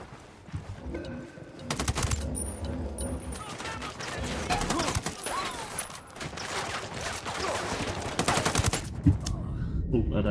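Automatic gunfire in the shooter game Ghost Recon Wildlands erupts in loud repeated bursts and scattered single shots over a constant noisy background.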